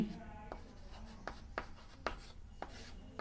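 Chalk or pen writing out a quadratic formula during a Class 10 maths lesson: a quiet series of short scratchy strokes at an uneven rhythm, with no one speaking.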